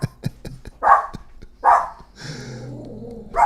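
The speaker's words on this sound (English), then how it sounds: "You want to know what's the craziness that has the little dog going crazy?" A little dog barks indoors in a house: a few quick sharp yaps, then two louder barks, a short whine and a final bark, close by with no talking.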